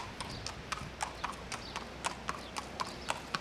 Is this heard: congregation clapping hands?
no